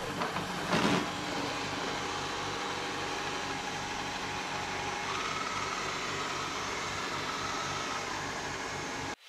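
A Eureka J15 Pro Ultra robot vacuum starts cleaning the floor, its steady broadband motor and fan whir running continuously and evenly at close range after a brief click at the start.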